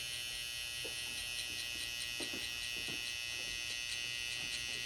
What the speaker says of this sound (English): you use your trimmer and just get rid of that line there